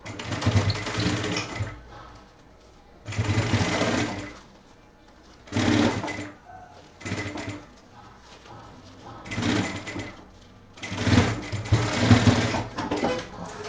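A sewing machine stitches the inner pocket lining of a men's backpack in repeated bursts of steady whirring, close by, separated by short quiet pauses.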